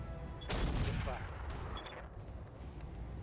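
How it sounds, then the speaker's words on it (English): A Panther mech fires its weapons in the RogueTech video game, a burst of heavy overlapping gunfire and booms that then trails off into mechanical clanks and faint beeps. "the Panther is going to continue to fire on their Panther"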